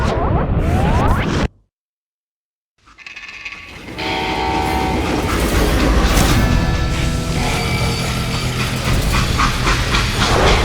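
A freight train in the western video game Call of Juarez Gunslinger rumbles along steadily and loudly after a brief silence, with a horn or whistle blowing over the rolling wheels.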